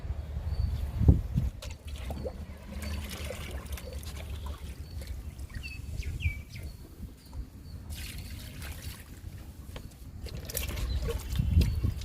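Kitchen waste liquid trickles and pours onto vegetable plants, okra among them, in a garden after rain, a soft steady splashing dribble running close by with faint outdoor rustle and no talk.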